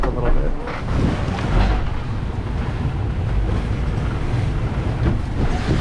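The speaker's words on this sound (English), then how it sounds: "The wind is bending around the corner, so I'm able to" Wind buffets the microphone on a catamaran sailing singlehanded through a Sea of Cortez norther, with gusty roar and water noise rising and falling continuously, while a voice talks intermittently.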